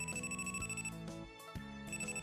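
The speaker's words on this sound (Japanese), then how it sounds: "マネージャーさんから電話だよ。" A phone ringtone plays for an incoming call, a bright repeating electronic melody of sustained tones with a short break, faint and steady, with no talk.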